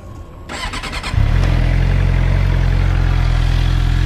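A motorcycle engine cranks briefly and then catches, settling into a loud, steady, rumbling idle close by, with no talking.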